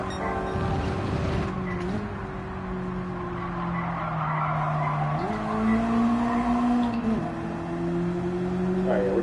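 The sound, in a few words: race car engine downshifting for a corner in Gran Turismo video game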